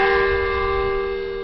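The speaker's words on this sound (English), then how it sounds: "the church's bells do ring across the country to dissipate the heavy black clouds" Church bells ring in Syria, one sustained, resonant peal with strong steady overtones that slowly fades over a short span, loud and alone with no voices.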